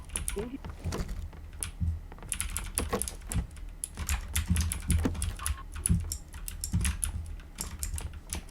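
Computer keyboard keys are hammered rapidly during a PC battle royale game, a dense clatter of sharp clicks in quick irregular bursts, close and fairly loud, with no talking.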